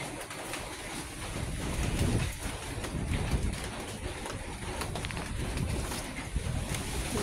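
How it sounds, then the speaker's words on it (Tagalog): Steady, rumbling wind buffets the microphone, with broadband roaring gusts that swell and ease throughout, no voices present. "lakas yung hangin dito"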